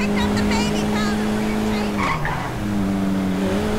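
Suzuki car racing along in GTA V, a loud steady engine drone with a shifting pitch partway through and a brief tire screech, with people talking over it.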